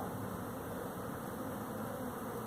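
A honeybee swarm hums in a steady, close, dense drone that holds without a break, with no voices over it.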